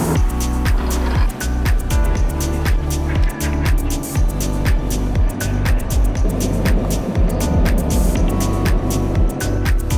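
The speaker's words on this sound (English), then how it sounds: "let's hop in the car and let's roll out" Car engine pulling away on a road, a continuous loud droning hum with rhythmic revving pulses and tire noise, close and steady throughout with no talking.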